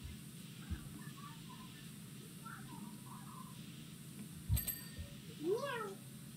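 Several faint cat meows rise through a steady background hum in PowerWash Simulator, with a few short sharp clicks between them and a brighter rising mew near the end.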